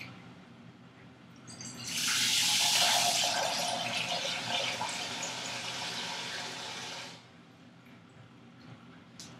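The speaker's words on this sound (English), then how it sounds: "Pour some water into a pot." Water pours into a cooking pot in a home kitchen, a steady splashing stream that starts suddenly, runs loud for about five seconds, then eases off into quieter background noise.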